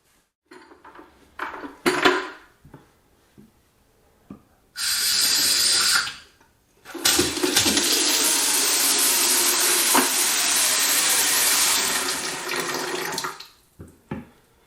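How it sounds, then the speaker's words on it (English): A newly installed kitchen tap, likely a double-handled pot filler, is turned on after the water supply is restored: a few clunks, then a short rush of running water and a longer steady gush, with clinks as it shuts off. "turn on the water, make sure there's no leaks"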